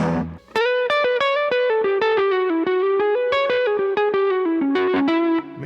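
A distorted electric guitar plays a quick melodic lick of picked notes, bright and sustained with a touch of effect, loud and with nobody talking.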